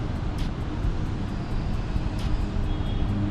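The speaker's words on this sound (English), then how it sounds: "There's a plane up there." A fixed-wing airplane passes overhead outdoors, a steady broad engine rumble and rushing drone that stays fairly loud and even throughout, with no talking.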